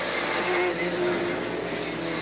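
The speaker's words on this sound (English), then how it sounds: "This car is really loud." A loud car engine roars steadily nearby during a 1988 Canadian Solo 2 national autocross run, a continuous hard-driven growl with no break.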